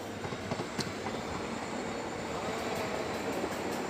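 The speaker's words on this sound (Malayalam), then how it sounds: "നിലമ്പൂരിൽ നിന്നും ഷൊർണൂരിലേക്ക് പോകുന്ന 10:30 പാലക്കാട് എക്സ്പ്രസ്സാണ് കടന്നു പോയിക്കൊണ്ടിരിക്കുന്നത്." The Nilambur–Shoranur Palakkad Express passes near Vaniyambalam station with a steady, loud rolling rumble of wheels on rail and faint clacks, with no pause throughout.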